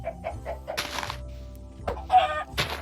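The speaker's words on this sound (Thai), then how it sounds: "สวัสดีครับน้องไก่" Minecraft chickens clucking in a short burst of several calls, close and clear, with game ambience and no talk.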